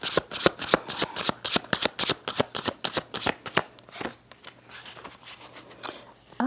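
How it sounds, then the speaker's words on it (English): Tarot cards shuffled in rapid riffling bursts, a crisp flurry of slaps and flutters repeating for several seconds before easing into softer shuffling. "I shuffle the mess out of these cards"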